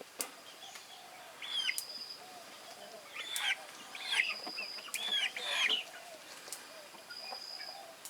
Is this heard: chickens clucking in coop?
yes